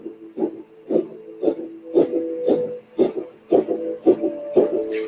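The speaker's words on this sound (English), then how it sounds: "When you exhale, you pull your belly in really tight, and the breath kind of shoots out your nose" Rapid, forceful nasal exhales of breath-of-fire yoga breathing puff out in a steady rhythm, roughly two per second, close and breathy with faint voicing between bursts.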